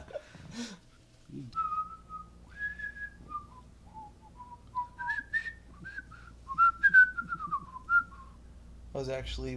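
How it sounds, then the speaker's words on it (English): A person whistles the Fairly OddParents theme tune, a clear solo melody of short and held notes, close and fairly loud, with no other sound competing. "I was actually whistling Fairly Odd Parents."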